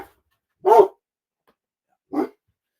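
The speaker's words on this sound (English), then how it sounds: "after the dogs stop barking" A dog barks twice, close and clear, with a sharp single bark followed by a softer one about a second and a half later in otherwise silent surroundings.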